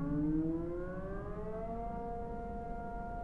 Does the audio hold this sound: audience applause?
no